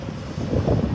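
Steady wind rumbles against the microphone, a dense low roar that grows slightly stronger toward the end.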